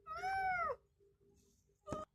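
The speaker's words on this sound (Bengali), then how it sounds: "এই জন্য ম্যাও ম্যাও করতে আছে" A young kitten, newly separated from its mother and infested with lice, gives one long, clear, plaintive meow up close. A short, sharper cry follows after a quiet pause.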